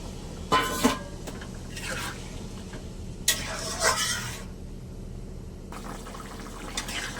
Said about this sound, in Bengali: এবার আমি পরিমাণ মতো জল দিয়ে দেবো। এখানে আমি গরম জল ব্যবহার করব।